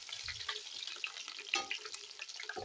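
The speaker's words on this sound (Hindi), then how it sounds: "अब इसको हम थोड़ा ब्राउन फ्राई कर लेंगे।" Boiled potato pieces browning in hot oil for a UP-style matar nimona (pea curry), giving a soft, steady sizzle with a few light stirring scrapes and clicks at moderate distance, and no voices.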